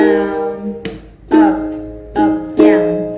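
Guitar chords from the intro of a song strummed slowly, four separate strokes spaced out, each ringing and fading before the next, close and alone.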